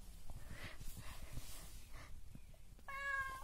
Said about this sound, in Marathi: आज मांजर डायरेक्ट बेडरूम मध्ये आले, त्यामुळे रायबाला जास्त विशेष वाटते